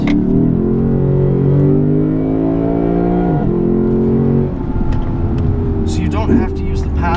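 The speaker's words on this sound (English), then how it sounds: "So you've got it matching downshifts on the way down" A 2016 Lexus GS-F engine revs hard on a curvy road, its pitch sliding as it blips through automatic rev-matched downshifts into corners, loud and close, with a voice speaking over it.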